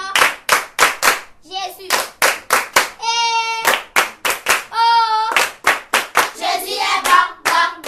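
A worship congregation claps hands in quick rhythmic bursts, loud and close, while voices sing and call out between the claps.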